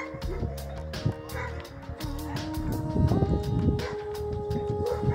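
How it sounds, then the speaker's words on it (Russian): A dog in a Turkish village near Afyon barks in repeated short yips and woofs over a busy background of music and other animal sounds, fairly close and steady throughout. "Собачка."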